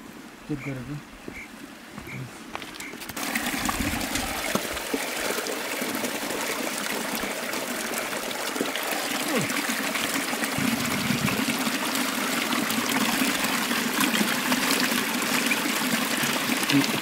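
A continuous rush of a flowing stream fills the scene after a short quieter start, with faint voices heard early on, on a trek in Far West Nepal.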